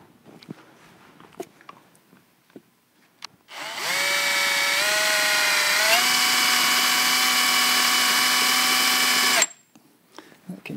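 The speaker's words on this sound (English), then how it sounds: "so I'm going to bend the drill a bit." A power drill bores at a shallow angle into a bass guitar body in a workshop, starting after a few quiet seconds with a loud, steady whine that steps up in pitch midway and stops abruptly.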